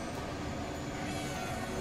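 A train in Transport Fever 2 rolls along the track in a steady, soft rumble with faint rhythmic clatter, continuous for under two seconds.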